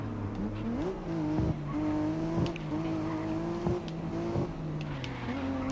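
Race cars roar through a difficult, technical circuit in the racing game GRID Legends, engines holding a steady high drone with pitch shifts at gear changes and brief clicks from shifts or contacts throughout.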